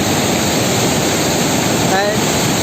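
Water roars through the Koshi barrage, a continuous, loud, close rush of churning flow that holds steady throughout.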